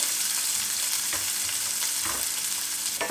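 Shallots fry in hot oil in a pan with a steady, dense sizzle, while a utensil stirs them in a few soft scraping strokes, close up and with no voices.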